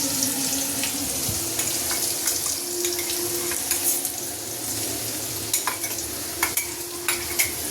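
Ground green chillies fry in a pan with a steady close sizzle, while scattered clinks and scraping stir through it from start to finish.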